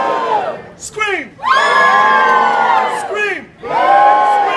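A theatre audience screams and cheers on cue in several loud bursts with short pauses between them, a crowd of shrill voices whooping together.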